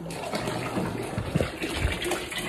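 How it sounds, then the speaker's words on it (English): Hot water gushes steadily from a freshly opened isolation valve on a newly fitted shower pump during a bathroom refit, a continuous loud splashing flow close by with no voices. "Look at that beautiful flow of hot, gushing water."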